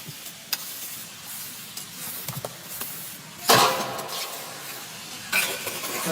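Mutton mandi mixture being stirred in a pot over heat, soft sizzling under scraping strokes with sharp clattering bursts near the middle and end, close by and without talk.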